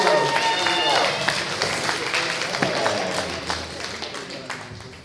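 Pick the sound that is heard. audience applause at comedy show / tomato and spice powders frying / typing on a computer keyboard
audience applause at comedy show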